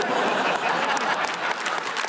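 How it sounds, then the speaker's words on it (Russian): Dense applause from a comedy club studio audience, steady and loud throughout with scattered claps and a bit of chatter mixed in. "И аплодисменты звучат за это"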